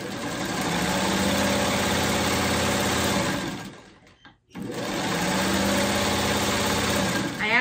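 Domestic sewing machine stitching narrow fabric strips for a freeform quilt block, a loud steady run of rapid needle strokes with a brief pause near the middle before stitching resumes.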